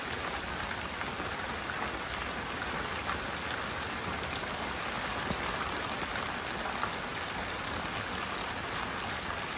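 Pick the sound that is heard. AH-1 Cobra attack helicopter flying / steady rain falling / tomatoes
steady rain falling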